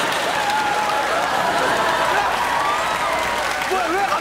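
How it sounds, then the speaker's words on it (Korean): Studio audience applauding during a Korean television comedy sketch show, a dense steady clapping wash with crowd noise mixed beneath voices talking over it. "뭐야 왜 갑자기 박수를 치지?"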